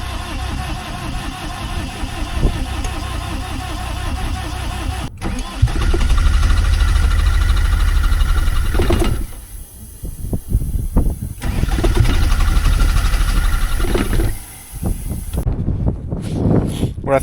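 A cotton harvester engine on a West Texas farm cranks and catches, then settles into a loud, rough, close idle. It cuts out and is restarted a couple of times, with brief quieter gaps between runs.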